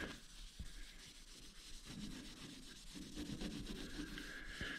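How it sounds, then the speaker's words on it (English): Rag wiping wax and grease remover across a bus roof panel during a roof raise project, a steady soft rubbing and scrubbing swish with faint intermittent knocks, close and continuous. "Just have a little bit of uh, wax and grease remover here with a rag. Just gonna wipe it off a little bit here"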